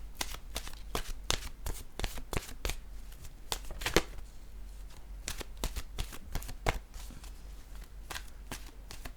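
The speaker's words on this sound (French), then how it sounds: "je vais piger maintenant une carte de mon oracle de l'âme intuitive" A deck of oracle cards is shuffled by hand before a card is drawn, giving a string of soft, close riffling snaps and slides in an irregular rhythm.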